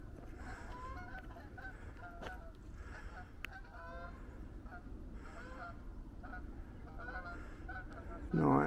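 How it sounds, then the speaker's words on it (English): A large flock of about fifteen geese honks at a distance outdoors on a walk, repeated nasal calls overlapping in bursts over low background rumble, with a sharp close noise at the very end. "It's a big flock of geese."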